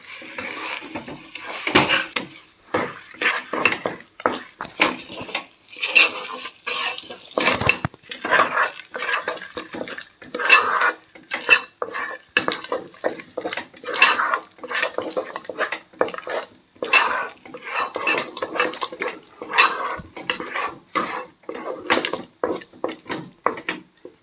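A spoon scrapes and clatters steadily through coconut filling mixed with sugar in a pan, a sweet stuffing for coconut poornalu, with close, irregular strokes continuing throughout and no voices.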